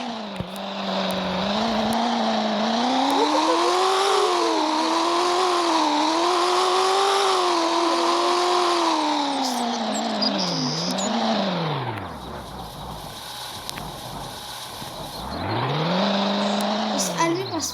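A car engine in the Roblox video game revs hard, its pitch climbing, wavering and dipping through a long sustained run, dropping away briefly, then surging up again near the end.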